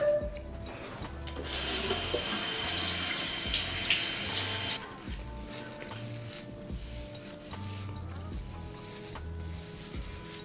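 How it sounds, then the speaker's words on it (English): Tap water runs steadily into a sink for a few seconds while sponges rinse a face during an at-home facial, then a quieter splashing and rubbing follows. "now I'm gonna rinse with my cute little sponges."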